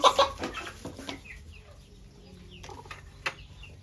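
Turkeys and other poultry move about an enclosure, giving scattered clucks and short calls. The sound is loudest at the start, then fades to fainter, intermittent bird sounds.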